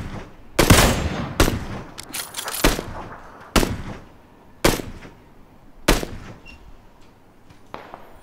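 Sharp Kar98k bolt-action rifle shots in a PUBG match, six loud cracks spaced about a second apart, with some echo between them and no talking.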